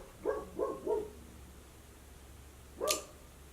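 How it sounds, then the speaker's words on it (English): Dogs barking close by: three sharp barks in quick succession, a pause, then a fourth loud bark, with no talk. "Damn dogs."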